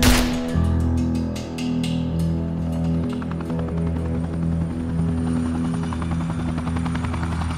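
A helicopter's rotor thumps and engine whine fill the air, loud and steady, with a sharp chopping burst at the start.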